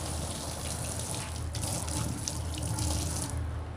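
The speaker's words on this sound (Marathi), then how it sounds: "इकडे कॉक आपला इकडे आहे कॉक चालू करूया" A tap runs steadily, a close, continuous rush of water splashing into a basin without pause.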